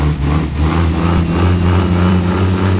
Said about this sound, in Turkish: araba resmen ağlıyor zorlanıyor